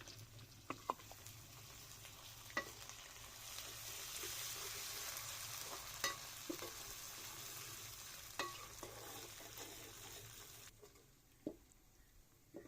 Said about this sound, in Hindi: अदरक लहसुन के पेस्ट को अच्छी तरह से भूनेंगे हम